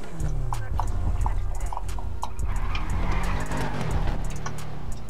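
Cars speed past in GTA RP, with a BMW 1200, Civic Type R, Supra and Hornet involved: loud engine roar and tyre noise sweep by close, over steady low rumble with sharp clicking transients throughout.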